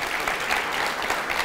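Dense applause from a conference audience at the opening of a QA event, continuous hand clapping from many people at a steady, fairly loud level across the whole moment.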